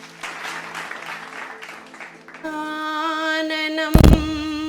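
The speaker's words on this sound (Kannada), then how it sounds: "ಸ್ಫೂರ್ತಿದಾಯಕ ಚಪ್ಪಾಳೆಯ ಮೂಲಕ ಅವರೆಲ್ಲರನ್ನು ವೇದಿಕೆಗೆ ಆಹ್ವಾನಿಸೋಣ" An audience applauds at a stage event, welcoming performers including a veena player. The dense clapping runs for a couple of seconds, then gives way to sustained instrumental tones, with one loud thump near the end.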